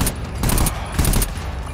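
Assault rifle gunfire in the video game GTFO, a loud fast burst of automatic shots with two denser clusters of rapid reports over a heavy rumble.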